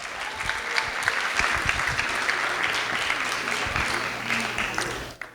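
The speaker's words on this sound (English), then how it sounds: "Give them a round of applause" A group of students at a summer institute claps and applauds for student government members, a steady burst of crowd clapping that fades out near the end.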